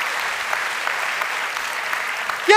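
Steady audience clapping at a talk show with music in Frankfurt (Oder), dense and even throughout, with a brief voice cutting in right at the end.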